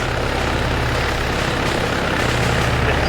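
A helicopter in a military video game set in a Baltic campaign ambush, with a steady, loud rotor and engine drone filling the whole clip and no talking over it.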